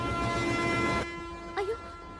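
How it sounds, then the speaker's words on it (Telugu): A passenger train, the Godavari, pulls out of a station with a loud sustained horn blast and rumbling noise that cuts off after about a second, followed by a brief rising tone. "అయ్యో ట్రైన్ స్టార్ట్ అయింది"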